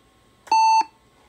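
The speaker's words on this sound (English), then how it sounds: "Loud beep." A single loud alert beep from an Apple Lisa computer, a steady pure tone lasting about a third of a second, sounding alone against near silence.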